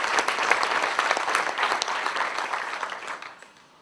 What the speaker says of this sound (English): I think the families also need a round of applause